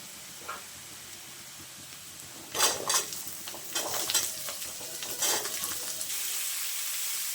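Cut potatoes tossed into a pan with browned onions are stirred and fried for a jackfruit-seed and sesame potato dish: scraping spoon strokes and soft sizzling come in clustered bursts, close and fairly quiet, with no talking.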